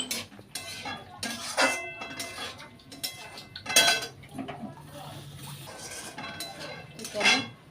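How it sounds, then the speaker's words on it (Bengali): Metal cookware clanking as a lid is set over a pot of aloo posto in a home kitchen: several close clinks and scrapes in an irregular sequence, with faint background sounds between them. "তো চলো এই যে ওর ঢাকা দিয়ে দেবো।"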